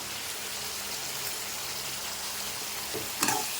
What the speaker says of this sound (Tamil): வதங்கட்டும் நல்லா வதங்கட்டும் தக்காளி